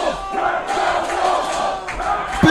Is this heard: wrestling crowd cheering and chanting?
yes